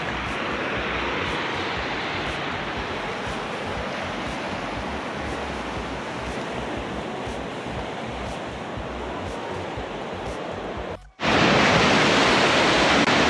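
Flooded Walker River rushing hard, a loud, steady broadband roar of water that cuts out briefly near the end before returning even louder.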